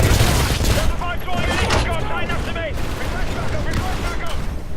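Gunfire in the Titanfall video game keeps up as dense, sustained automatic bursts and booms under excited talking throughout.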